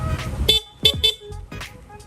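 Short horn toots from a Yamaha Nmax 155 motorcycle with a PIAA horn, a few quick honks in succession, close and fairly loud with no talking.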